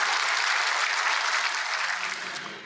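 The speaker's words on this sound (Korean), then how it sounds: "하나님 앞에 영광의 박수를 올려드리겠습니다." A church congregation applauds during a worship service, producing a steady, dense wash of clapping that holds evenly for nearly three seconds before easing slightly at the end.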